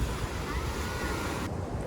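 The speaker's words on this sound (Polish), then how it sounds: "Patrzcie, jakie fale!" Sea waves breaking along a beach on a warm day, a steady broad rushing wash of surf mixed with wind noise, continuous throughout with no voices.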